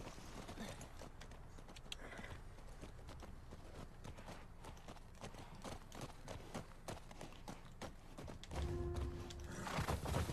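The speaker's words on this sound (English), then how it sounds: "Hurry up, get on the horse." Horse hooves in the video game The Last of Us Part II, a rapid, continuous clip-clop of galloping on hard ground, close and fairly loud, with brief bursts of other noise near the end.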